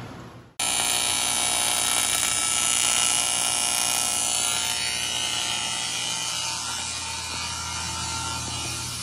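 Machine shop work on a steel rail from a drag race car, a loud continuous high-pitched milling whine that starts abruptly and holds steady, close by, with no talk.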